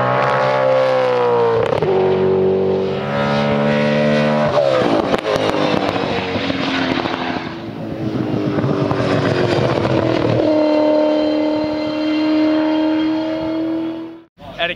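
A Car of the Future race car from the TeamVodafone squad runs on a test day, its engine loud and close as it revs up and down through several rising and falling sweeps before cutting off sharply near the end.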